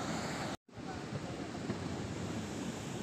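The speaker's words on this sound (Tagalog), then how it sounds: "Talaga nga naman nakaka-relax ang simoy ng hangin at ang alon ng tubig dagat." Sea waves wash onto a beach while a breeze blows, making a steady broadband rush throughout with one brief dropout near the start.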